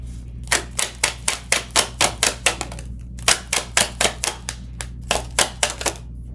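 Tarot cards shuffled and pulled during a Capricorn reading, heard as a close run of sharp, papery snaps and taps in quick, fairly even bursts, pausing briefly midway, over a low steady hum with no talking.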